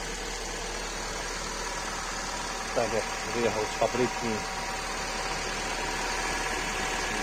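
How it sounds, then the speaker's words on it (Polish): A 2006 Honda Civic 1.8 engine idles steadily in a low, even hum while someone speaks briefly over it. "Silnik równo pracuje, suchy, żadnych wycieków."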